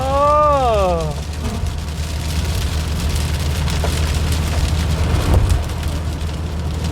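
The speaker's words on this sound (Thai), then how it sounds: "โอ้โหฝนตกฝนตก" Rain falls steadily along a road in northeastern Thailand, heard as a broad, even hiss that runs the whole way, with a low rumble beneath and a rising tone sweeping through at the start.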